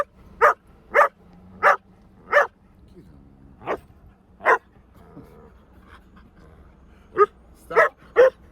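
A dog near a Jeep Liberty gives sharp, close barks in a steady series with short gaps and a brief quiet whimpering stretch in between, while a person talks faintly in the background.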